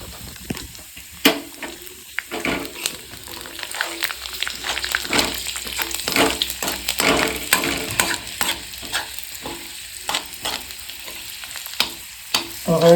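Garlic cloves broken into hot oil fry and sizzle steadily, with bursts of crackle and the scrape of stirring, close up with no talk.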